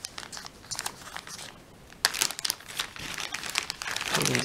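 Plastic medicine packets are pulled from a first-aid kit, giving a steady run of crinkling and rustling, close and fairly loud, with no speech.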